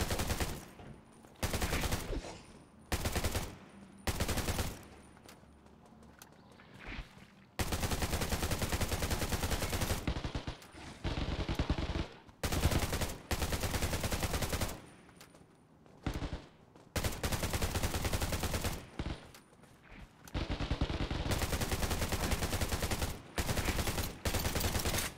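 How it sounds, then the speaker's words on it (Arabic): Sustained bursts of automatic machine-gun fire in the shooter video game Undawn, loud and near, rattling in long stretches separated by brief pauses. "راح اطلع الرشاش، عندي 500 طلقة."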